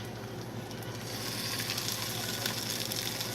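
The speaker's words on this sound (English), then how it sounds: "We got some sizzle there, so the pan is definitely hot enough." A steady sizzle of tuna cakes frying in a hot pan, close and continuous, with a faint low hum underneath.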